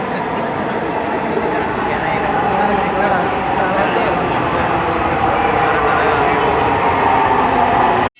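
A Dhaka metro train rumbles and roars steadily on a crowded Friday, loud and close throughout, with the murmur of people mixed beneath before cutting off abruptly.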